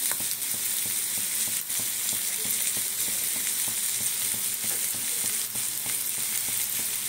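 Tomatoes sizzle and fry steadily in a hot pan while kadai paneer cooks, a dense continuous crackle with faint clicks of stirring and no voices.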